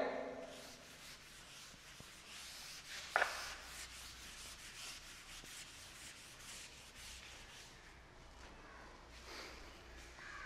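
Someone rubs writing off a board during a thermodynamics lecture, making soft, scratchy back-and-forth strokes that run for about ten seconds. The sound is close but quiet, with one brief sharper knock partway through.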